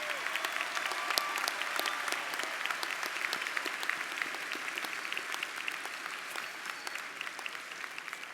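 Steady, dense applause from a large audience at a university commencement ceremony, honoring the honors candidates; continuous clapping at even loudness throughout, with no talk over it.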